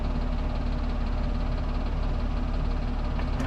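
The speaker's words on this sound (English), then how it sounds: "I'm going to turn off the auto idle, pump that idle up just a hair" A Kubota KX033-4 mini excavator's diesel engine idles steadily and loudly nearby on a cold day, a constant low rumble with a slight knocking vibration throughout.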